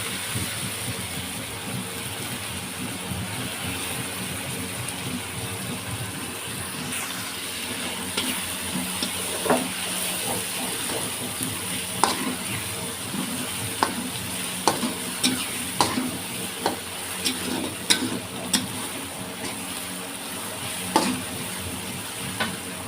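Shrimp frying in a pan, giving a steady close sizzle over a low hum, while a utensil stirs and scrapes with a run of clicks that grows more frequent toward the end.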